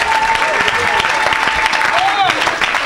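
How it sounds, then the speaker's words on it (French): A church congregation applauds for Jesus at a worship gathering, a dense, steady roll of many clapping hands that fills the whole moment, with voices mixed into the crowd noise. "Acclamez pour Jésus."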